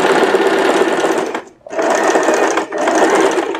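Sewing machine stitching fabric strips onto suit sleeves, a loud, close, rapid whir in three bursts separated by two short pauses.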